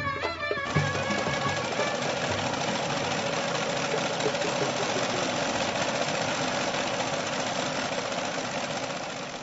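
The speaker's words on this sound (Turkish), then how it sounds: "Nasıl traktörümüz Salman canavar gibi değil mi" A tractor engine runs steadily with a dense, knocking mechanical chug, loud and continuous throughout with no talk over it.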